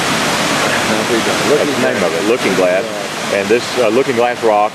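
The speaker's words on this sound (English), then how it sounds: "this is Looking Glass Falls and Looking Glass Creek" Looking Glass Falls on Looking Glass Creek pours with a steady, broad rushing roar that runs under someone talking throughout.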